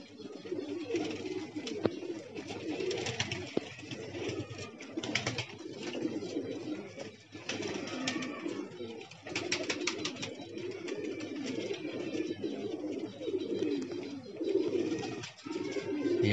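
Domestic pigeons coo in soft, repeated low murmurs while a small flock returns from its first flight of the day, the cooing steady and close throughout with a few brief dips.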